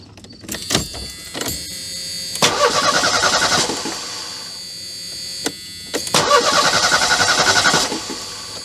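A 1985 Merkur XR4Ti engine is cranked and fires up twice, each start a short starter whir bursting into a loud, rough mid-pitched engine run before settling, close by with no talk.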